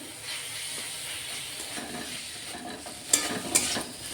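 Garlic paste sizzles steadily in a pan with already fried onions, a constant close hiss broken by a couple of sharper scraping stirs near the end.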